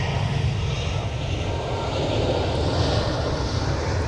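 A Spirit Airlines jet roars loudly on departure from MSP airport, a steady, powerful engine rumble that holds and swells slightly with no voices.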